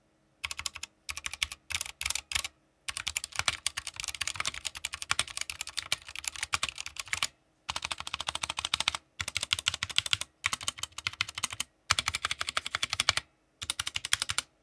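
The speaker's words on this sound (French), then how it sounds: "Je vous laisse maintenant écouter du coup le son de ce clavier" Bursts of rapid clicky keystrokes on an Ajazz K610T computer keyboard, close and clear, broken by short pauses between typing runs.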